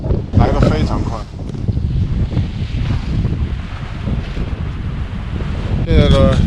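Strong, steady wind roaring over a microphone on a sailboat as a thunderstorm approaches, with water wash beneath and someone speaking through parts of it.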